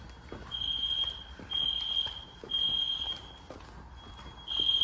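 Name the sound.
fire alarm horn strobes sounding in sync during system test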